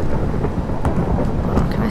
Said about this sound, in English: Ooh, and it's raining.